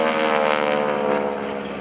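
A North American Texan's 600 horsepower engine roars close and loud as its Hamilton Standard propeller tips go supersonic near 2,250 RPM, a steady buzzing drone with a rasping edge, continuous and alone at an airshow.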